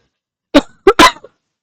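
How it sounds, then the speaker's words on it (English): A person coughs three times in quick succession, close and loud, with silence before and after. "I just cannot get rid of this cough, I tell you"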